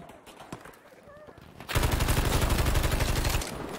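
Sustained automatic fire from a BAR machine gun in Battlefield 5 on Wake Island, a loud, rapid, continuous burst that opens abruptly after quieter ambient game noise and lasts close to two seconds.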